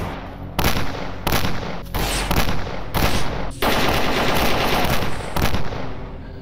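Loud, close automatic gunfire in the S.T.A.L.K.E.R. Anomaly 1.5.1 video game comes in repeated rapid bursts with brief gaps between them, continuing through the whole stretch without speech.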